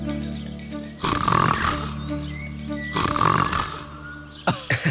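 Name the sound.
boy imitating an animal roar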